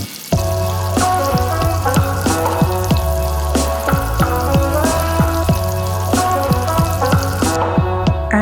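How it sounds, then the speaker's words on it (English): Water splashed into a hot pan of mushroom Manchurian sets off loud continuous sizzling and bubbling, with rapid popping crackles and a steady low hiss, close up. "Add some water."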